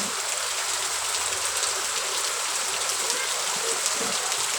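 Steady light rain patters on a surface nearby, a soft continuous hiss with no pauses.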